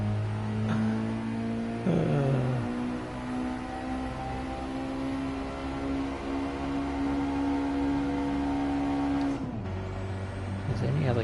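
Racing video game car engine droning and revving as it strains to accelerate on a mountain road, a steady loud tone with shifts in pitch, under a voice speaking.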